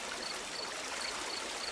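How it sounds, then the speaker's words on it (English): A small creek flowing in a quiet meadow, a steady, soft, continuous rush and trickle of water heard alone at low level. "This creek here is, I guess it's just called the creek."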